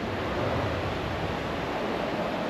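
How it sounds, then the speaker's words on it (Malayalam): A full river flowing through forest, a steady unbroken rush of water filling the space evenly without any voices. "ഇത് ഫുള്ള് പുഴ കേട്ടോ."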